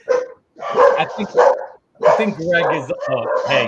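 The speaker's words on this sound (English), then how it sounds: "my dog is barking now too" A pet dog barks indoors during an online bowling interview, yips and barks mixed in with someone talking, fairly close and clear between and under his words.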